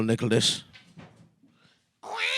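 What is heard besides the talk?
cat meowing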